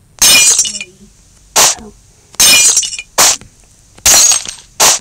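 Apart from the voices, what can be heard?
glass breaking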